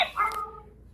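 A dog yips or whimpers in short high bursts from the background of a backyard where children are playing, picked up by an ANRAN B04 1080p pan home security camera, the cries fading quickly.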